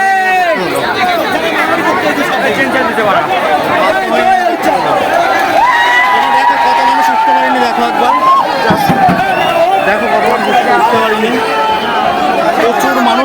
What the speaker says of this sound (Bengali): প্রচণ্ড পরিমাণে ভিড় দেখো শুধু এই এই বগিটা দেখো এতটা পরিমাণে ভিড়